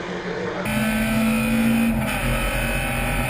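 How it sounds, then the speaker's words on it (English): MG racing cars in the MG Trophy Championship come down the straight at Donington Park, a group of engines blending into a loud, steady, rising drone with sustained whining tones and no talking. "Here's a gaggle of cars coming down the straight"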